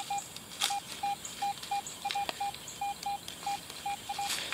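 A metal detector sounds short repeated high beeps over a buried fishing spinner outdoors in Florida nature, faint and evenly spaced, with light rustling and scraping between tones.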